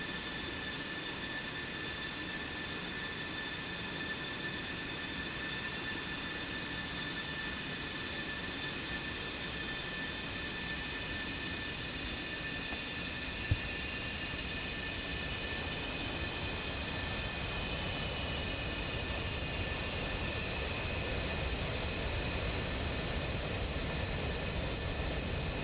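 Jet engines of F-16 and F-15 fighters idling on a cold runway on the Kola Peninsula in a combat flight simulator, a steady roaring whine with high tonal notes held without change.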